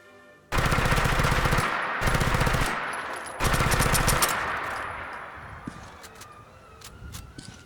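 Bursts of automatic gunfire from a modded gun with custom sounds in the video game Fallout 4, three loud rapid volleys separated by short gaps, ending in a fading echo with scattered clicks.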